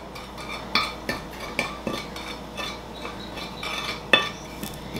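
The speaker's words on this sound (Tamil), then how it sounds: "தேவையான அளவு ஒயிட் சுகர் எடுங்க மற்றது சினமன் பவுடர் இதுக்குள்ள ஆட் பண்ணி நல்லா மிக்ஸ் பண்ணுங்க" Spoon stirring white sugar and cinnamon powder together in a bowl for a pastry topping, a string of light scraping clinks at an irregular pace, close and fairly faint, with no talk.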